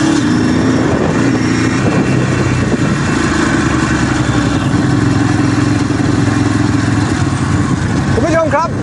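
A fuel-injected Ducati MH900 motorcycle is ridden in daylight, its engine producing a close, continuous, loud drone with some mechanical clatter, and a voice briefly rises over it at the end.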